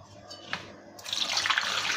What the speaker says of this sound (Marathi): त्यात पाणी घातलेलं आहे